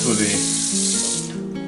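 Water pours steadily into a roasting pan with Cornish hens for a moment, a bright splashing rush close by that trails off at the end.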